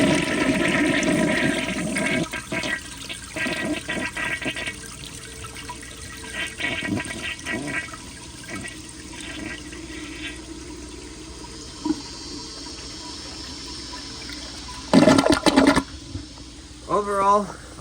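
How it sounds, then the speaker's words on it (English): A 1975 Kohler Highline toilet flushes up close, a loud rushing burst of water late in the clip followed by gurgling refill, after a stretch of talking over quieter water sounds. "here is more of a close-up flush"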